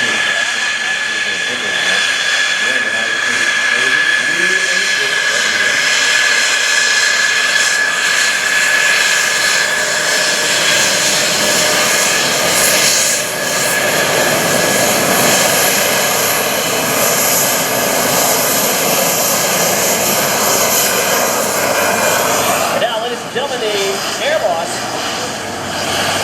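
An F-16CJ Fighting Falcon jet fighter roars through an airshow demonstration at a Rhode Island Air National Guard base, a loud sustained engine rumble and whine that dominates, with a voice speaking over the public address system beneath it.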